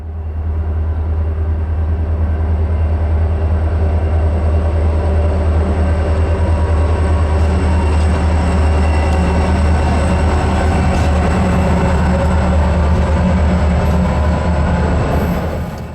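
Norfolk & Western 611, a giant J-class steam locomotive, rolls over a bridge span crossing the Little Calf Pasture River and Lehigh Road, a loud, steady roar of train rumble and wheel noise holding close and unbroken throughout.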